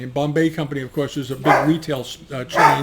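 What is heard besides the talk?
dog barking in the background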